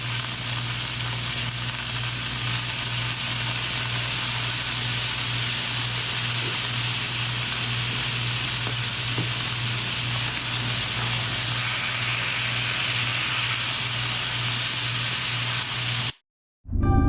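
Chicken stir fry with Chinese spice sizzles fiercely in a pan over high heat, a loud, continuous hiss and crackle that stays even throughout before cutting off abruptly near the end.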